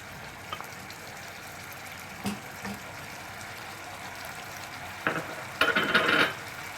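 Fried onion paste for an egg masala curry goes into a hot pan: a low background sizzle, then louder scraping and spattering bursts near the end as the paste lands and gets moved around.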